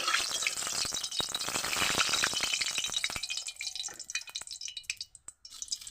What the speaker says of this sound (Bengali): তো আমি একটু তেল দিয়ে দিলে নুন দিয়ে দিলাম তেলের ভিতরে, নুনটা একটু গরম হোক